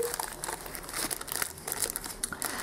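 Small plastic bags holding jewellery-making components crinkle and rustle steadily up close, with no talking over the handling.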